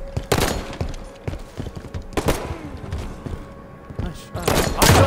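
Gunfire in the Halo 5: Guardians video game: repeated loud bursts and single heavy shots in uneven clusters, close and punchy, with thuds and brief gaps between volleys.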